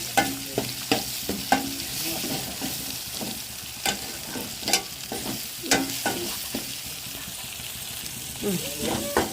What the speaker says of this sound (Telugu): మసాలా అనేది కూడా బాగా ఫ్రై అవ్వాలి